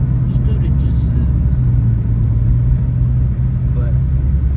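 A Cadillac CTS-V cruises down the road, its engine a loud, steady low rumble with road noise heard from inside the car while someone talks over it.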